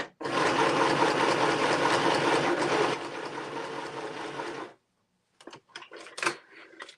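A sewing machine stitching pages of a fall fabric journal runs in a loud, steady close whir for several seconds, slows slightly, then stops, followed by a few sharp handling clicks and taps.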